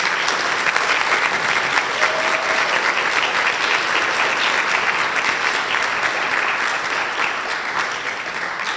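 An audience at a district spelling bee at Memorial applauds steadily for nearly nine seconds, a dense, loud wash of clapping that holds evenly throughout and thins slightly near the end.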